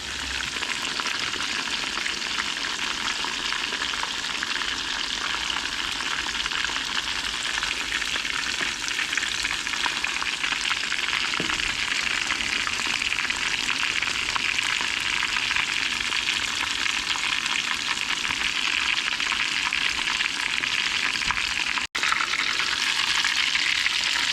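Battered white bass and bluegill fillets deep frying in hot oil, a dense, even sizzle and crackle that carries on unbroken and close by, with no talking.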